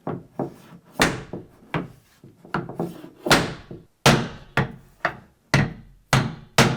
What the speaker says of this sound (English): A block and a hammer.